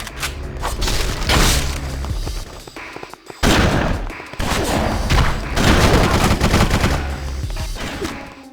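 Gunfire in the video game BloodRayne, set in Argentina: loud, close bursts of rapid shots with heavy booms and thuds, a brief pause near the middle, then more sustained firing.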